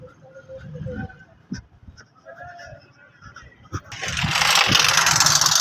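A motorcycle engine runs nearby in a busy morning produce market in Jalalpur Pirwala, starting quieter amid scattered clatter and then swelling into a loud, steady roar for the last couple of seconds.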